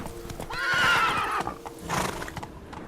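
Roach the horse from The Witcher 3 galloping, with rhythmic hoofbeats under a loud neigh and a second whinny, all close and prominent, and a brief voice urging the horse on.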